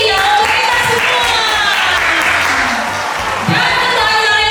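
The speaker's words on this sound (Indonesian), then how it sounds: "Tepuk tangan yang meriah untuk kita semua." An audience at a mall event in Surabaya applauds loudly and steadily, the dense clapping filling the space with a brief dip before swelling again, and a few cheers blend into the crowd noise.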